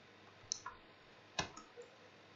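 A computer mouse clicks a few times in a quiet room, sharp isolated taps with small gaps between them.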